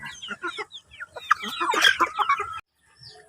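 Rhode Island Red hens cluck and chatter close by in quick, uneven bursts, a few rising calls mixed in, before cutting off abruptly.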